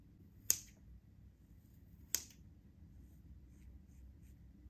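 Scissors snip through hair during an at-home layered butterfly haircut, two crisp isolated cuts about a second and a half apart, close and quiet against a faint background hum.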